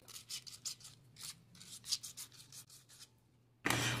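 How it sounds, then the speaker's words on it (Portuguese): Sandpaper rubbed by hand against a plastic pipe fitting makes quick, close scratchy strokes in a steady rhythm, ending in a sudden louder burst of rough sanding. "lixar a conexão também na parte interior dela"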